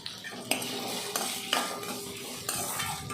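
Tomato sautéing with a little salt in a pan, stirred briskly so a spoon clanks against the metal several times over a light sizzle, close and loud.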